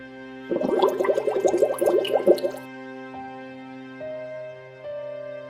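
Water is scooped from a pond, with a close burst of splashing, sloshing and dripping for about two seconds, then quiet under a steady background tone.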